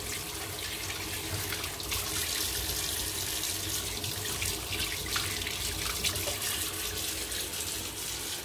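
Water runs steadily from a kitchen tap while macaroni is being prepared, a constant close splashing rush that fills the whole stretch with no voices.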